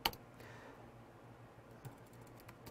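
Soft computer keyboard typing of a router command, a few quiet key taps at the start and end with a low background hum between them.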